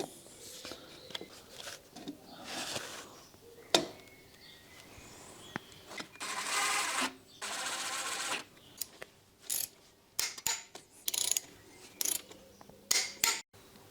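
Ratchet clicking in short bursts while torquing bolts during an S62 V8 engine swap into a BMW E31, close and mechanical, with scattered taps and clinks between the bursts.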